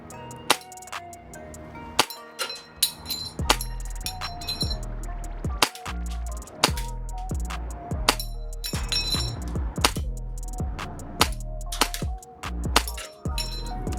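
A Tokyo Marui V10 ultra-compact gas blowback pistol fires BBs in a long series of sharp, irregularly spaced cracks with metallic clinks, close and loud, some shots coming in quick pairs.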